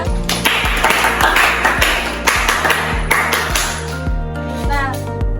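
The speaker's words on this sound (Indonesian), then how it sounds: "Boleh tepuk tangan semuanya" Students in an Indonesian classroom clap together for a classmate, producing a series of sharp, irregular claps close by, with children's voices and a teacher talking over them.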